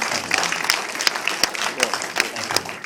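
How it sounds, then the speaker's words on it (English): Audience applauding after a film screening, a steady patter of clapping with some voices mixed in. "I think a round of applause just for that alone."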